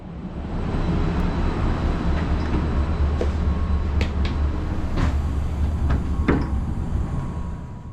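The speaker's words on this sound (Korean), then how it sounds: "701 KTX 이음열차에 탑승합니다." A KTX-Eum train standing at a Cheongnyangni station platform, with steady low rumble and machinery hum, plus a few brief clicks and clunks of boarding, continuous and fairly loud throughout.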